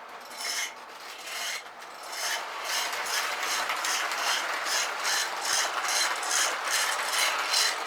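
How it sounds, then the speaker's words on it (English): A 1991 Lionel Iron Horse toy train engine runs on standard O track past a track-activated semaphore, giving a steady run of rapid mechanical clicks and ratcheting gear noise, close and fairly even. "The weight of the engine makes the semaphore arm go up."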